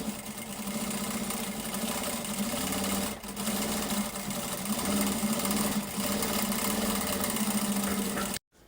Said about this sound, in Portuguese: Agora, eu desço com o forrinho, passo uma costura de pesponto